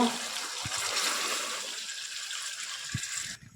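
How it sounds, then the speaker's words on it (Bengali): Water being poured into a pot of chicken curry: a short rushing pour close by, steady for a few seconds, with a couple of soft knocks, then it cuts off abruptly. "আর একটু পরিমাণ জল দেব"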